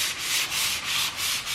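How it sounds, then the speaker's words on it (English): Hand sanding blue pine shiplap wood along the grain makes a close, dry rasping. Four even back-and-forth strokes swell and fade in a steady rhythm, with no voices. "Make sure that when you're sanding wood like this, that you're sanding with the grain"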